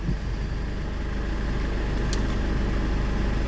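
A 2010 Ford pickup with a 2.5 engine idles steadily, a constant low rumble holding level throughout with a faint brief tick near the end, no voices.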